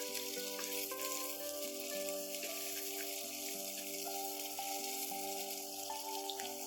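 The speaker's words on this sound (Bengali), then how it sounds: "চিচিঙ্গাগুলো হালকা করে ভেজে নেব" Snake gourd frying in oil with green chilli and radhuni spice, giving a soft, steady hiss over a low continuous hum, faint and even throughout, with no one speaking.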